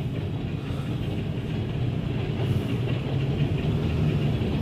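A long freight train of mostly empty LP SmartSide lumber cars rolls past close by, a steady low rumble with rhythmic wheel clatter on the rails, growing slightly louder toward the end.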